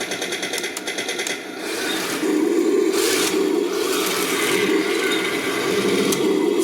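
A small electric motor in a Heng Long 1:16 scale RC M4A3 Sherman tank whirs and buzzes steadily with a rattling, mechanical engine-like hum that shifts slightly in pitch, close and moderately loud.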